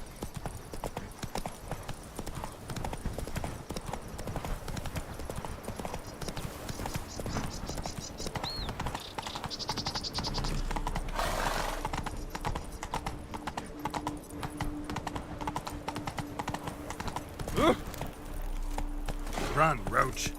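Roach the horse galloping in The Witcher 3: rapid clip-clop hoofbeats run steadily throughout, mixed with game music and effects, with a voice speaking over them.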